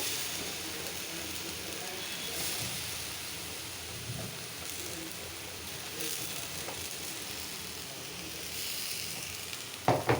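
Eggplant frying in oil in a pan, a steady close sizzle that continues throughout with light crackling and a few clinks near the end.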